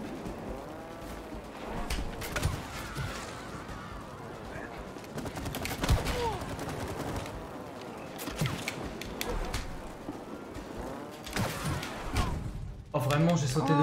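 Rapid gunfire in the It Takes Two co-op game, shooting at a beetle boss, comes in scattered bursts amid clattering game effects, with players talking over it throughout.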